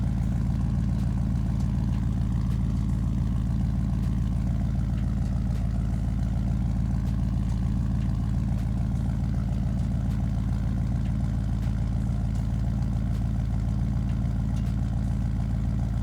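An Oldsmobile's engine on the move, a steady loud low rumble that holds level without pause, heard from inside the car.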